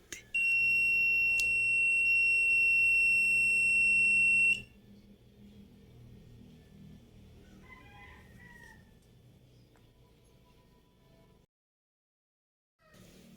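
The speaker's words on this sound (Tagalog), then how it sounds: "Now when you short the probes, the tester will beep." A digital continuity tester gives one long, loud, steady high-pitched beep lasting about four seconds when its probes are shorted, followed by faint room noise and quiet handling sounds.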